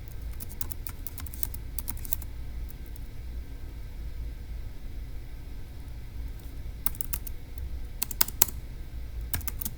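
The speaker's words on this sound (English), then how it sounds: "let's go ahead and type that up in our notes in section E" Notes being typed on a computer keyboard in quick bursts of light key clicks, with pauses between them, over a constant low background hum.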